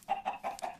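A Minecraft chicken clucks four times in quick, even succession, close and fairly soft, with no other sounds around it.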